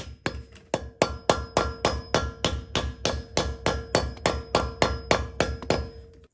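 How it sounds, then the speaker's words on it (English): A hammer strikes a cap into place during a leveling kit install on a 2024 Ford F150, about twenty loud, evenly spaced metallic taps, close and ringing, with no talking. "let's go ahead and tap our little cap on"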